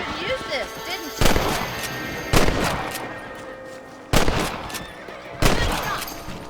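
In the Western video game Red Dead Redemption, four loud, sharp gunshots ring out at irregular intervals, each with a short echoing tail, mixed with a horse whinny and other game sounds.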